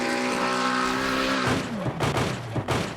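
Racing cars in the Le Mans Ultimate sim, a McLaren and a BMW at Spa-Francorchamps, whine at high revs before a sharp, clattering series of crash impacts and scrapes breaks in, loud and close.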